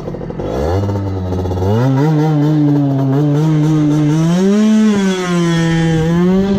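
A 50cc moped with a Most exhaust revs up from idle at a standing start, its buzzing pitch climbing steadily as it accelerates and holds a loud, close drone.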